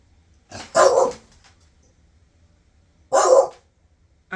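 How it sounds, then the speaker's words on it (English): A pet dog barks excitedly indoors, two loud close barks a couple of seconds apart with a third starting at the end, separated by quiet. "The reason why I jumped when my dog barked just now"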